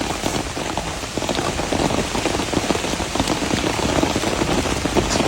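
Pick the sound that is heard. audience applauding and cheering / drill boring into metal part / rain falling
rain falling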